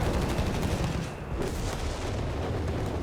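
Bishop self-propelled artillery fires in the Company of Heroes 3 strategy game, heavy booming shots rolling over a dense, continuous battle din.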